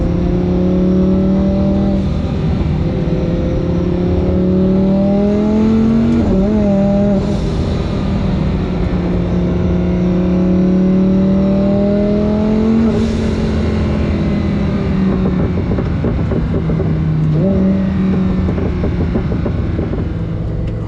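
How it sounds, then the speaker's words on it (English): A Lamborghini's turbocharged engine revs hard in Corsa mode in repeated climbing surges, loud and close, with a whooshing turbo whine rising and falling between shifts. "Let y'all hear these turbos."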